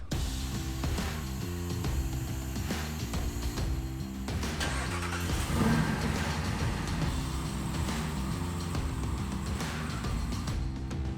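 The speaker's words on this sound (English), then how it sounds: "Just driving around the house with just the rear in diff lock" A Land Rover with no front drive shaft, running in rear diff lock, drives around a house; its engine hums steadily and close for the whole stretch, swelling slightly midway with no talk over it.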